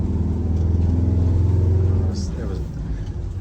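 A Detroit Diesel engine in a truck that is down on power pulls at full throttle with a loud, low, steady rumble that eases off near the end, and a voice speaks briefly over it.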